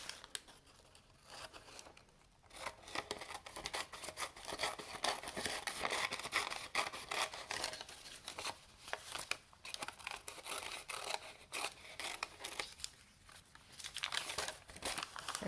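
Paper being cut with scissors into strips for a Chewbacca craft bookmark, a steady close run of crisp snipping and rustling crinkle with brief pauses between cuts.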